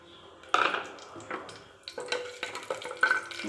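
Whole cinnamon, cloves, cardamom and a bay leaf hit hot oil in a pan, giving a few sharp clinks and a light, uneven crackle that comes in short bursts, close by, with no talking.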